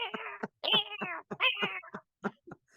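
A cat meows several times in quick succession, short rising and falling cries close by in an otherwise quiet room.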